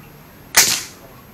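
A single sharp air rifle shot cracks at a shooting competition, a sudden bright pop with a short fading tail and no talk over it.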